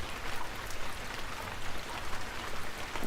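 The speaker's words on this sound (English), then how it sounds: "The rain will only get worse," Steady rain falls at night around a carriage as a dense, even hiss of drops with no pauses, moderately loud and without voices.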